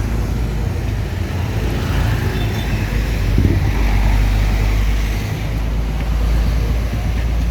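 Road traffic rumbles steadily as a Rosalia Indah bus pulls in at a busy Bulak Kapal, Bekasi bus agency, a loud low drone of engines with a brief swell midway and wind buffeting, no voices.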